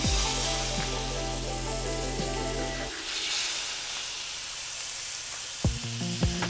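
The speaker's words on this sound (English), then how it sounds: "All right, that butter is melted, so let's put the fillets in." Beef tenderloin fillets searing in melted butter in a hot pan, a loud close hiss and crackle that sharpens as the meat goes in, with a few small clinks near the end and no talking.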